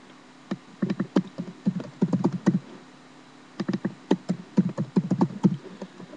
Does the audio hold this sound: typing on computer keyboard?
yes